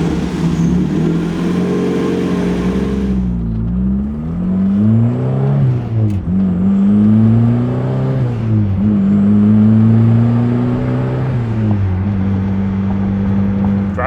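A Mazda Miata fitted with a 400 hp engine, currently unable to hold coolant pressure, drones steadily up close, then revs up and down repeatedly as it drives and accelerates through several rising and falling engine sweeps, loud and with no talking.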